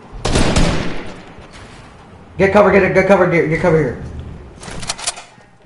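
Gunfire in a Fortnite Battle Royale duos match: rapid bursts of shots at the start and again near the end, with a voice speaking briefly between them.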